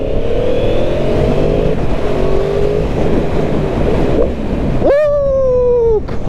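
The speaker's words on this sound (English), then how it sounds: "Let me open it up here with the quick shifter." A Yamaha MT-10 motorcycle fitted with a quick shifter accelerates hard onto a highway, with steady wind roar and engine drone, then a sharp, loud rev that rises in pitch and holds, with a quick upshift near the end.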